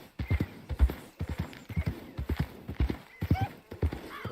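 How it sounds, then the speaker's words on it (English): Steady clip-clop of horse hooves trotting at a regular rhythm in Red Dead Redemption 2 Online, with some faint background noise. "This horse ain't gonna keep up with none of them."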